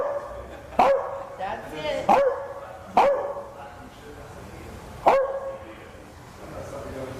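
A dog at a grooming session gives four sharp, close barks spaced a second or two apart, with people talking nearby between them.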